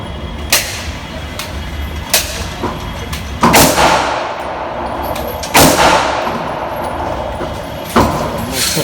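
Gunshots fired outdoors at a shooting range during a pistol range day, several sharp reports spaced seconds apart with echoing tails, two much louder, booming shots standing out among them.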